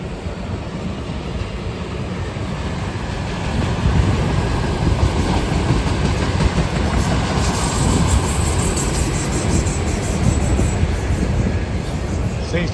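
A fast train passes on the old B&O line of the Dayton District, a loud steady roar of wheels and rail noise close by that swells slightly midway and holds for over twelve seconds, with a high metallic squeal on top.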